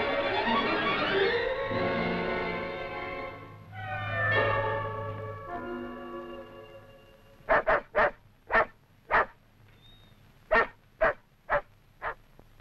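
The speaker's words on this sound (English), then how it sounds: "The dog has been trained to find any suspected persons, hold them at bay, and bark to attract the handler's attention." A police dog barks in a rapid series of about ten sharp, loud barks following a stretch of whining and yelping, close by and clear of talk.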